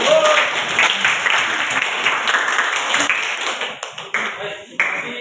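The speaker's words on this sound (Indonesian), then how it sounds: "tepuk tangan untuk teman-teman." Loud, dense applause from a group fills the room, with many hands clapping continuously before tapering off near the end.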